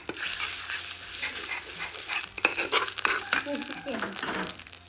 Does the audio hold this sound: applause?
no